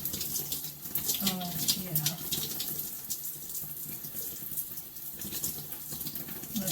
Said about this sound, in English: So now I have water running in the background to keep me warm